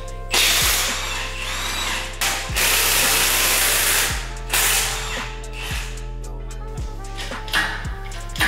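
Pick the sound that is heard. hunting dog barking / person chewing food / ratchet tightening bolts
ratchet tightening bolts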